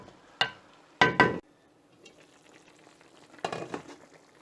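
A brinjal and prawn curry with water in a pot being stirred over a slow flame, a few short scraping, splashing bursts of the spoon in the pot separated by quiet bubbling, close and alone without talk.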